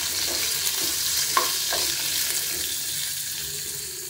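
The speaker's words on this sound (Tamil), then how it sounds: "எல்லாத்தையும் சேர்த்து நல்லா வதக்கி வச்சுக்கலாம்" Onions and ginger fried in a pan for mutton masala gravy make a continuous, close sizzle broken by a few stirring scrapes and clinks.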